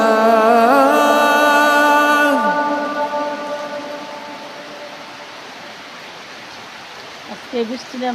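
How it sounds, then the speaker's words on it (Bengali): Steady rain falls as a broad, even hiss that continues to the end. A voice chants loudly over it for the first couple of seconds, and a few faint noises come through near the end. "আজকে বৃষ্টি নামতেছে।"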